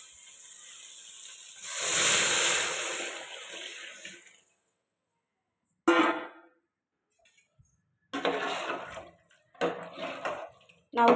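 A tamarind and chili powder mixture is poured into frying brinjal for kuzhambu. A loud hiss and steam burst comes first, then fades, and shorter sizzling bursts with pan clatter follow.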